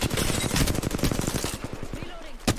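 Rapid automatic gunfire from Rampart's weapons in Apex Legends, a dense, loud, close stream of shots that thins into spaced bursts, ending with a single sharp report.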